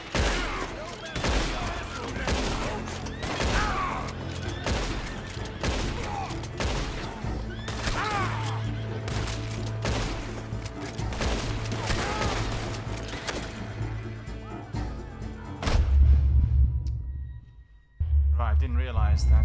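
Rapid volleys of gunfire ring out in a Red Dead Redemption 2 bandit fight on a bridge, with horses whinnying amid the shots and a voice talking over the action before it cuts to quieter moments.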